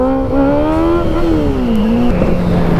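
A Kawasaki ZX-6R accelerates hard in first gear, the engine note climbing loud and close before easing and a quick shift, alone with no voices.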